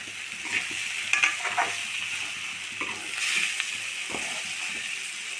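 Brinjal curry is stirred in a pan after a spoonful of ground cashews goes in, a soft sizzling bed with a few scraping, wet spoon strokes, close and moderately loud, no talk.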